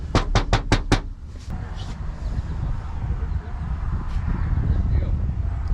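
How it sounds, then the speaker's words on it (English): Knuckles rap five times in quick succession on the door of an old abandoned farmhouse, close and crisp, followed by steady outdoor wind rumble and faint rustling with no further knocks. "I'm actually just gonna knock on their door."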